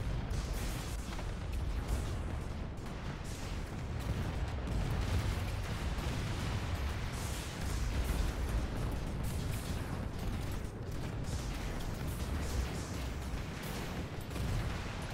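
Turrets being shot down in the space strategy game AI War 2, a quiet continuous wash of distant gunfire and artillery thuds with dense, overlapping impacts and no talk.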